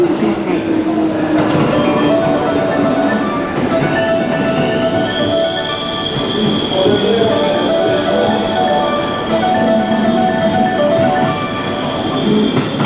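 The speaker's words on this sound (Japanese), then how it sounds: "14番乗り場に当駅止まりの電車が参ります" A JR West Yamatoji Line train pulls into a platform at Tennoji Station, its wheels rumbling and squealing in a long drawn tone as it slows, while a recorded platform announcement plays over the noise.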